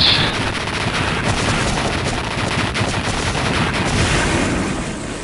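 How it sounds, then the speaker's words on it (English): Dense, continuous rumbling blasts and crackling bursts, a rapid barrage of explosions and gunfire in Mega Man X6, loud throughout with no talking. "That was a lot of explosions."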